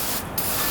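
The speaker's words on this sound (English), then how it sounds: "I'm gonna spray it down with engine degreaser, guys." Engine degreaser sprayed onto a fire-damaged, soot-covered 2016 GMC Yukon Denali: a brief, close, continuous broadband hiss of spray.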